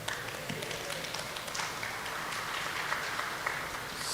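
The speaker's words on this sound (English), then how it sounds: "only the professors are clapping" Scattered applause from an audience of professors at a talk, light and uneven, a modest clatter of hands that carries on steadily and never builds into a full ovation.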